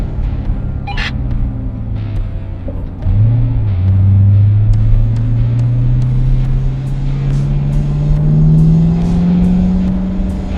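A Chevrolet Corvette C7 Grand Sport drives along a winding road through a small town, its engine droning steadily and loud from inside, the pitch dipping and then climbing gradually as it accelerates, with no talking.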